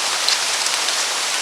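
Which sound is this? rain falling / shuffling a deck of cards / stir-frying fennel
rain falling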